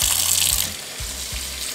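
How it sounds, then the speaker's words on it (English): Water poured into a potted plant to flush the soil, a steady close gushing pour with low gurgling pulses as the pot drains. "So I'm just gonna flush it with some water."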